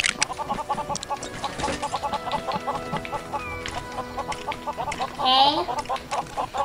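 Chickens cluck in quick repeated bursts in LEGO Worlds, with electronic game-like tones and a rising chime, while a person briefly speaks over it.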